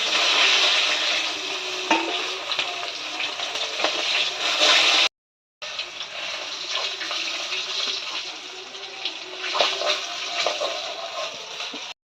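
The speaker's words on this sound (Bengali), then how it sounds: "বাকি মাছগুলো আমরা ভেজে নিচ্ছি।" Pieces of kalbaush fish fry in hot oil in a kitchen pan, giving a steady, close, broadband sizzle that runs continuously apart from one short break, with no talking.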